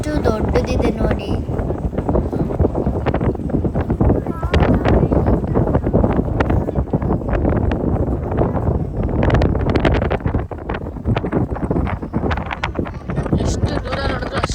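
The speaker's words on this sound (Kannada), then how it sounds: "ಅಲ್ಲಿ ನಿಂತ್ಕೊಂಡಾಗ ಕಂಟಿನ್ಯೂಸ್ ಆಗಿ ಗಾಳಿ ಬೀಳಿಸ್ತಿತ್ತು ಗಾಯ್ಸ್" Strong continuous wind at the Bhadra reservoir roars across the microphone in a dense, steady rumble, with voices talking over it throughout.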